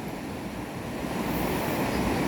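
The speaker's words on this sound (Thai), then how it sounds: "คลื่นแรงมาก" Strong sea waves at a Chanthaburi beach in rain roar as a steady, dense wash of surf with some wind noise, no talking.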